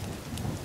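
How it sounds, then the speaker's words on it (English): Rain falling in The Forest video game, a steady, dense wash of rainfall with low rumbling underneath, continuous through a short stretch with no talking. "we start a fire and here comes the rain"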